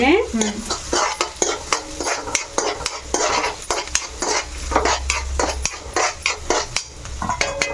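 Ginger and green chilli sizzle in hot oil for a sweet-shop-style samosa filling, with a spatula repeatedly scraping and clacking against the pan at close range, continuous and fairly loud.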